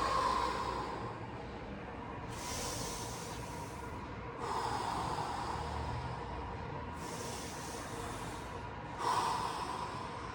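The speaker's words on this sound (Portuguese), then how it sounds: "utilizando boca e nariz para poder inalar e a boca para poder exalar praticamente todo o ar" Deep, controlled boxing breaths, drawn in through mouth and nose and pushed out through the mouth: long airy inhales and exhales alternating slowly and evenly, close up and alone.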